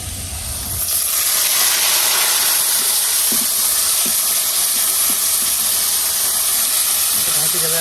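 Leafy greens go into hot oil with browned onions in a home kitchen, and a sudden loud hiss breaks out about a second in, then keeps sizzling at a steady, close, even level.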